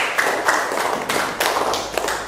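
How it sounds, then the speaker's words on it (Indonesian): Students clap for a classmate in a classroom, a short burst of scattered, uneven handclaps with a few louder taps standing out, fairly close and with no talk over it. "Beri tepuk tangan untuk Risma."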